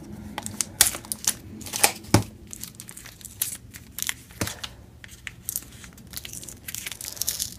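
Packing tape being cut and torn off a bubble-wrapped package, heard as a run of sharp crinkling rips and scissor snips, close and fairly quiet, with no talking.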